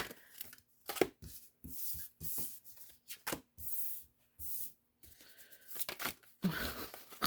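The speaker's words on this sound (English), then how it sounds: "let's pull your cards real quick" Tarot cards being shuffled and pulled from the deck, a series of quick papery riffles and slaps in short bursts separated by pauses, close and fairly quiet.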